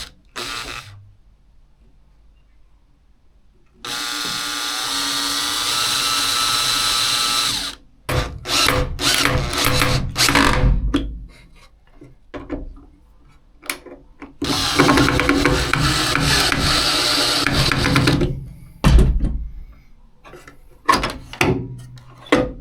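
Power tools whir in long bursts while hinges go onto XTM drawers, broken by clicks, clunks and ratcheting knocks between stretches of quiet, all close by.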